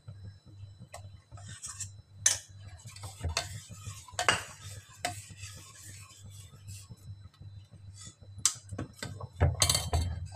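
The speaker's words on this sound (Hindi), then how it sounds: "अच्छे से चलाते रहना है कस्टर्ड डाल के" A spoon stirs custard powder into boiling milk in a pot, with irregular scraping clinks and taps against the metal over a steady low hum, close and moderately loud.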